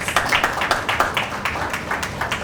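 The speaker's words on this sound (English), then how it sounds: "A round of applause for them, please." Audience at an awards ceremony claps in a round of applause, loud and close, with distinct individual hand claps standing out in an uneven rhythm above the broader clapping.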